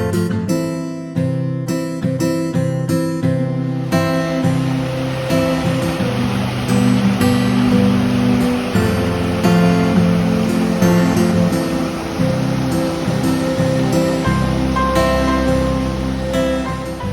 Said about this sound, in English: It's a direct runoff from the glacier, which we're heading up towards. You can see it's running really, really fast right now.